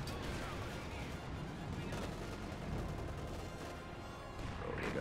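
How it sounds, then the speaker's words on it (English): Vehicle self-destructing in a war video game: a sustained barrage of explosive blasts and gunfire-like bursts rolls on without a break, loud and dense throughout. "let's see how big the explosion is when it blows up"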